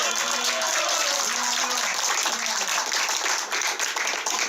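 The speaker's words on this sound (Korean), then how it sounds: "우리 조원진 대표님께 다시 한번 뜨거운 박수를 부탁드리겠습니다" A campaign-rally crowd gives party leader Cho Won-jin a steady, sustained round of applause, with music or voices faintly audible beneath the clapping.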